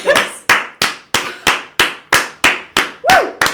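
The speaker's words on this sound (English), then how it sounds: "Oh, big round of applause" About a dozen sharp, evenly spaced hand claps ring out close by in a steady rhythm, each snapping and fading quickly, with a brief vocal whoop near the end.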